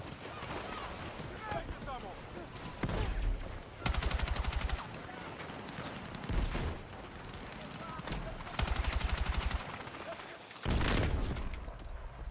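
Bursts of automatic G36 rifle fire in the video game Battlefield 6, several rapid strings of shots repeating every few seconds, loud and close amid busy battlefield noise, with someone talking over it.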